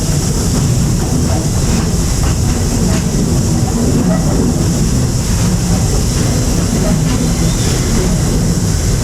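Onboard the Walt Disney World Railroad steam train in the Magic Kingdom, a continuous loud rumble of rolling wheels and car noise with faint rhythmic clatter runs steadily throughout.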